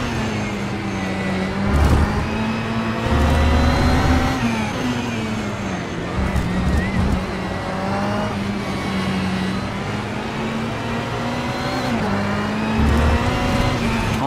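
Ferrari 488 GT3 race car engine in the rFactor 2 racing game, roaring continuously near and loud, with gear shifts and rises and dips in revs as it accelerates and brakes around the track.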